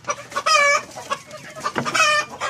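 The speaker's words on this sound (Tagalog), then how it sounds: "So ito yung isang inahin natin" A native hen clucks nearby in two loud bursts of rapid, throaty notes separated by quieter calls.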